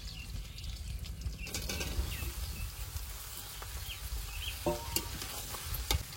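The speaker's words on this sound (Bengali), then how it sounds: "এবার চিচিঙ্গাগুলো দিয়ে দেবো তেলের উপরে" Snake gourd tossed into hot oil with fried garlic and green chili gives a faint, steady sizzle with some stirring scrapes and light clatter, quiet and close.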